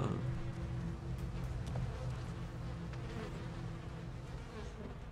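Flies buzz in a dank, gory scene of the horror video game Outlast 2 demo, a continuous low insect drone with a steady hum and faint background noise, no voices.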